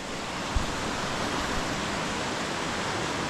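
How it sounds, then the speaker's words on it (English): A river flowing past the bottom of a farmhouse garden, heard as a steady broadband rush of water that fills the whole clip, with one brief low bump near the start and no talk. "I love this river. I absolutely love it."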